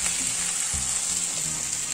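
Vegetables sizzle steadily in a hot pan, close and continuous, with a few soft scraping stirs.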